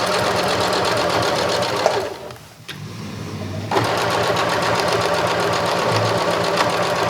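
Sewing machine stitching a reversible fabric shoulder bag, a rapid steady mechanical chatter that pauses briefly partway through, then resumes at the same close, even pace.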